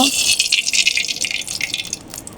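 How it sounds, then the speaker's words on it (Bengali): Oil poured into a wok for cauliflower korma, a brief, loud, bright gushing pour that runs steadily for about two seconds and then tapers off, heard alone. "ফুলকপির কোরমা রান্নার জন্য কড়াইতে তেল দিয়ে দেব"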